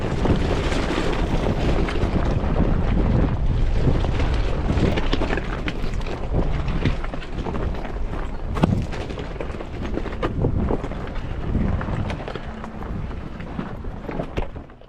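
Strong wind gusts across an open hillside on a hike, a loud continuous roar and buffeting against the microphone for the whole stretch.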